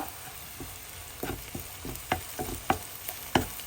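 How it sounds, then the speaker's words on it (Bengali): Dried red chillies, cut into small pieces, fry in a pan while being stirred, giving a steady soft sizzle broken by scraping stir strokes that grow louder and sharper toward the end, with no talking. "নেড়ে দিব"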